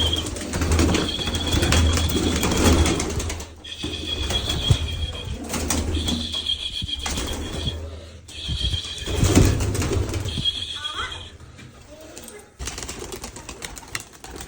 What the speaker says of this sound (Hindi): अब तो सारे कबूतर ट्रेन हो चुके हैं बाहर निकलने का